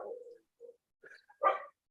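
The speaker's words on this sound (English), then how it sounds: "Who has a dog crying here?" A dog whining near a call microphone, a few faint short whimpers and a brief yip spaced apart over near silence.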